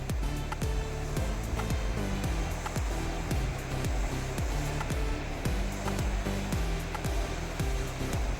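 A mixer grinder whirs steadily while blending roasted coriander, chilli and coconut into a paste, a loud continuous motor drone with a regular pulsing churn, close and uninterrupted.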